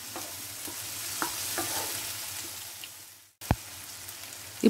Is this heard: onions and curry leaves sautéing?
yes